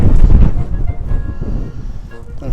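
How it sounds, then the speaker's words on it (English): Strong wind buffets a microphone at a lakeside, producing loud low rumbling gusts that roar close and steady throughout. "I don't know if you can hear the wind blowing, but it is quite blowy."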